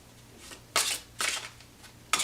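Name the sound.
tarot cards being shuffled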